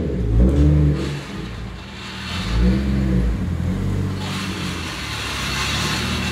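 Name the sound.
car driving off on new suspension for a test drive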